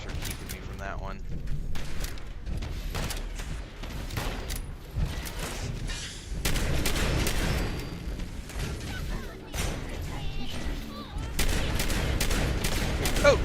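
Gunfire in Fallout 76: repeated loud shots and dense bursts fill the stretch, with a voice talking intermittently underneath.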